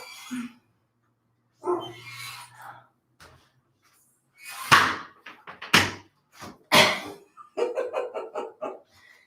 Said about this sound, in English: the dog's going to start barking